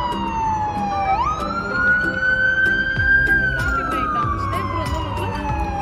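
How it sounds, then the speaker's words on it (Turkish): A police car siren wails through a city square, its pitch sliding and sweeping up and down steadily, loud and continuous over a rumble of street traffic. "Video kaydı başlayınca polis arabası giriyor mu?"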